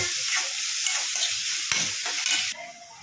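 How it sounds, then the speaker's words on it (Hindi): Onions fry over a slow flame in a pan, a close, dense sizzle with stirring scrapes that runs for a few seconds before dropping to a softer hiss at the end. "प्याज को भी हम 2 से 3 मिनट पकाएंगे। स्लो फ्लेम पे पकाना है।"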